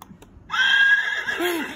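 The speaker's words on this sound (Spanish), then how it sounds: "Caballo. Caballito." A horse neighs once in an animal-sounds memory game, a loud, shaky whinny lasting over a second after a brief quiet start.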